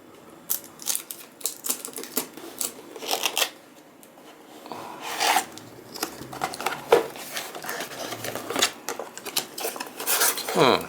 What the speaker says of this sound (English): But without further ado, let's open this box.